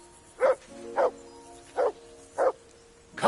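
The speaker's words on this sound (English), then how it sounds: "Whistle at that mutt of yours to stop barking." A dog in the video game Kingdom Come II: Deliverance barks in five evenly spaced short woofs at a steady rhythm, moderately near, with no voices present.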